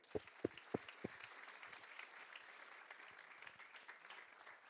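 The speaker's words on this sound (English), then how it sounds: "An applause." Audience applause at a tech meetup welcoming a speaker, opening with a few sharp close claps before settling into a soft, steady patter of clapping from the room.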